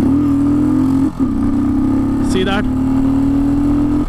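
A 2018 Royal Enfield Thunderbird 500X single-cylinder motorcycle pulls hard through its gears, its loud, close engine drone holding steady with a brief dip at a shift, while a rider talks briefly over it.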